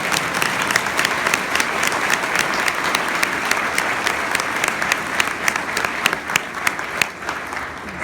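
An audience at a manager-of-the-year award event applauds steadily throughout, a dense, sustained patter of many hands clapping from a crowd.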